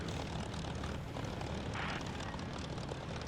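A P-51 Mustang's propeller engine turns over during a cold start in the DCS flight simulator, a dense, continuous rumbling roar heard close and steady throughout.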